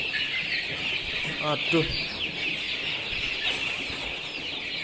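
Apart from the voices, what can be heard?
chickens clucking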